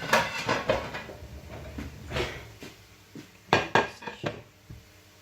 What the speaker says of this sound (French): On va prendre une assiette.